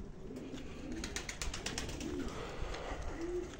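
German pigeons on a rooftop coo softly in a few separate low calls, set against a faint outdoor background with scattered light ticks and rustles.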